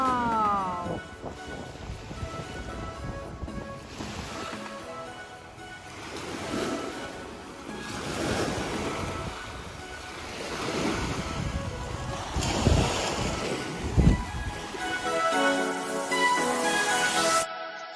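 Waves roll onto a beach at Issyk-Kul lake with a boat offshore: steady surf washes in and recedes with a few stronger breaks, under gusting wind buffeting the microphone.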